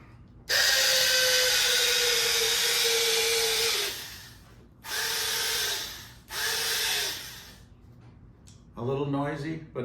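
An old electric drill runs in loud, steady bursts: a long whining spin of about three seconds, then two shorter runs separated by brief pauses, with a voice speaking at the end.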